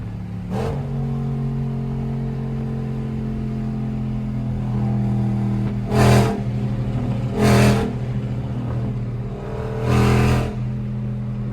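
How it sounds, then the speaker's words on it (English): A tuned Dodge Hellcat engine idles with a steady low rumble, then blips loudly three times in short revving bursts, each rising and dropping back quickly. "My car is so loud."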